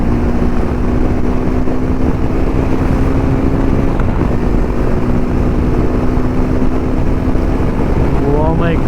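A Hero Xpulse 210 motorcycle runs fast on a highway carrying two riders, with steady loud wind roar and engine drone throughout and a rising tone near the end.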